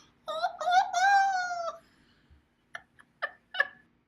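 A person imitates a wolf howl with a short, wavering, rising-and-falling wail, followed by a few brief spoken syllables.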